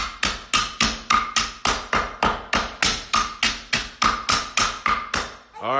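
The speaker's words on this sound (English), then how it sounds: "Use the hammer." A hammer taps rapidly and repeatedly on a hard surface, a steady stream of sharp, close knocks with no pauses.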